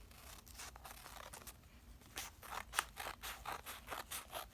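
Scissors snip paper triangles for a handmade DIY banner, a string of short crisp cuts and crinkles that quicken and grow louder in the second half, close and alone without talk.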